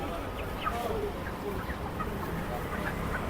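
Chickens cluck at a market stall in Kawran Bazar with short, scattered clucks and squawks set against busy crowd noise and nearby talking.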